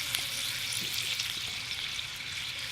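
Food sizzling on a short grate set low over a campfire: a steady, soft, even frying hiss with faint crackles throughout, moderately close, no voices.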